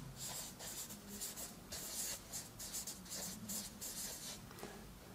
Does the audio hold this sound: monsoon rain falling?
no